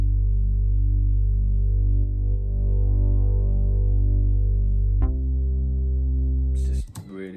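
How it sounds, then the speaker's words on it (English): A deep, steady sawtooth bass from a Roland JX synth, softened with chorus and compression and with the top end rolled off, holds one long low note and then shifts to another before breaking off into a brief noisy cut. "The bass again is the JX, same sound, saw sound, just with chorus and a lot of the top end taken out of it"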